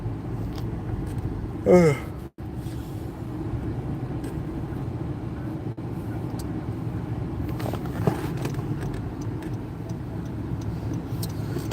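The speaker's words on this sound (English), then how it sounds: "Friday traffic." Friday road traffic heard from inside a car: a steady low engine and tyre rumble with passing vehicles and a few faint ticks, with no one speaking.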